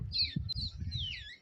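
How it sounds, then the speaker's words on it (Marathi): High, thin bird chirps and twittering, a few quick calls close together over a quiet low background hum. "आता हे बघा पक्ष्यांचा किती आवाज येतोय"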